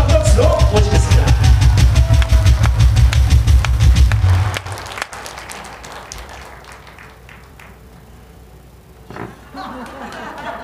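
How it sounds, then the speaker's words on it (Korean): A loud burst of crowd applause at an outdoor rally welcomes a speaker, with dense, close clapping for about four seconds that then drops away, leaving quieter murmuring and background noise. "자, 우리 김경재 전 의원님을 큰 박수로 모시겠습니다."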